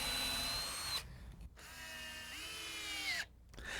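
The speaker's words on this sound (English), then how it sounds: "I first drill pilot holes to prevent the screws from splitting the ends of the boards" Close, continuous whine of a power drill boring pilot holes into softwood boards, the motor pitch dipping under load with two brief pauses.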